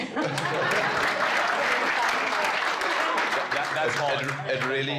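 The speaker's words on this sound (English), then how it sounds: "Sorry, can we just clap for him?" An audience at an entrepreneurship conference applauds an MD who runs a founder's business, with steady dense clapping throughout and a voice talking faintly over it.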